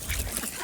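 A buff drake duck on a farm gives a short, close quack, a brief nasal call in the open air.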